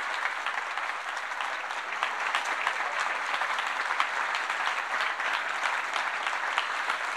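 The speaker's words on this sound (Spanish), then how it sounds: "Un fuerte aplauso para Su Excelencia el Presidente de la República." A crowd at a construction-week closing event gives the president of Chile a long round of applause, dense and steady clapping from many hands that carries on evenly for several seconds.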